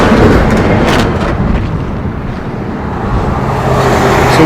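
A FedEx delivery truck drives past on a road as a steady, loud broadband rumble that swells and fades slightly, with no talking.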